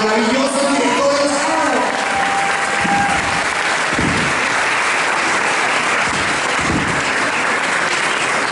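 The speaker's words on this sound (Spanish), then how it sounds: "un aplauso para estos maravillosos directores" Loud, dense applause from an event audience honoring the directors of the series Y llegaron de noche, a continuous roar of clapping with a voice speaking briefly at the start.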